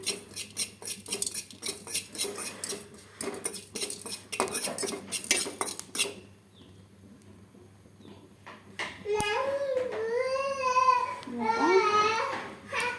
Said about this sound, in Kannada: ಸ್ವಲ್ಪ ಜೀರಿಗೆ ಮತ್ತು ಮೆಣಸು ಸಪ್ರೇಟಾಗಿ ಫ್ರೈ ಮಾಡ್ಕೊಳಕತ್ತೀನಿ